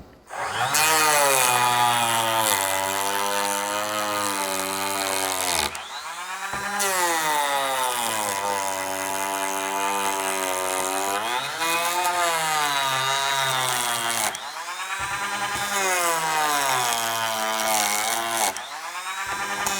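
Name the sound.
Bosch 12 volt cordless planer cutting wood shavings at full speed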